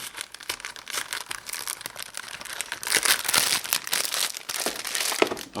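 Plastic packaging of frozen chicken burgers is opened with continuous close crinkling and rustling, irregular bursts of loud crackle for several seconds.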